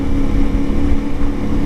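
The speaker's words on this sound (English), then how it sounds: "she's doing a little burble now" A CFMoto Ibex 450 motorcycle engine with a sputtering, missing fault runs close and loud, giving a steady low, uneven burbling rumble throughout.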